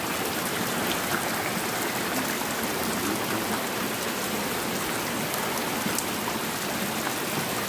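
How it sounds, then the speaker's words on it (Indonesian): Heavy rain pours down steadily in Cibarenah, a dense, constant hiss of drops on surfaces with no pauses and no voices. "Ini hujannya sangat lebat sekali"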